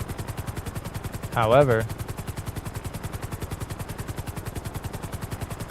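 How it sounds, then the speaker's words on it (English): A stolen helicopter flies in the video game MetaWorld, its rotor beating in a steady, fast pulse throughout, with someone briefly speaking over it. "I might be in a stolen helicopter"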